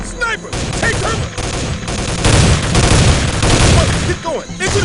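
Sniper and gunfire bursts in the PC shooter Soldier of Fortune II: Double Helix, loud volleys of shots and booms coming in dense, rapid clusters, with shouted voices in the middle of the combat.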